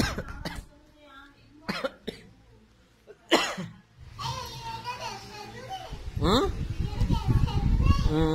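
An adult coughs several times in short sharp bursts at home among a young child, with speech and children's voices around the coughs.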